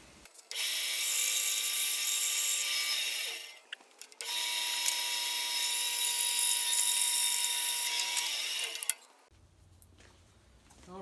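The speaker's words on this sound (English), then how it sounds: "Turns out a good bandsaw blade cuts way better than a bad bandsaw blade." A bandsaw cuts mahogany for a woodworker's mallet in two long, loud, close passes. Each pass is a bright, steady whine, with a short dip between them and a quieter tail after the second cut.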